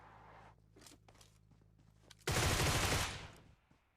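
Groza rifle fire in the mobile shooter Battlegrounds Mobile India arrives as one loud, dense burst of automatic shots lasting under a second, preceded by faint footsteps and quieter game ambience.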